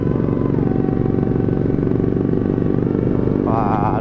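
A dirty, long-unwashed motorcycle idles close by on a rainy night in Bandung, a loud, steady rumbling engine with a brief rise near the end.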